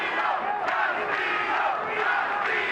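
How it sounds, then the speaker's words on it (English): A boxing arena crowd at the MGM Grand chanting Castillo's name during a championship fight, a dense roar of many voices swelling in a repeated two-beat rhythm. "Crowd is chanting, Castillo, Castillo"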